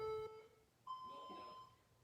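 A workout interval timer goes off during a home mobility session, with a short high electronic tone followed by a longer steady beep, faint and close, with a hint of room noise.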